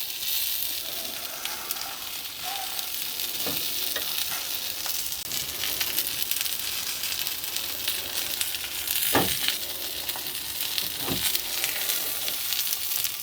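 Spam and black pudding crisp up on a hot shovel, giving a steady broadband sizzle with occasional sharp pops and crackles throughout, close and alone without speech.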